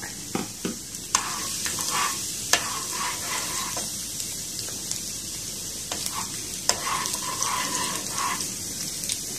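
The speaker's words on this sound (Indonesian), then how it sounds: "Oke, sekarang kita aduk." Bean sprouts and garlic being stirred and fried in a pan, a steady sizzle broken by repeated scraping clicks of the spatula, close and moderately quiet.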